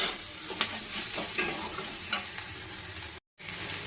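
Green chilli and garlic frying in a kadai make a loud, steady sizzle with repeated stirring scrapes, cut by a short silent gap near the end.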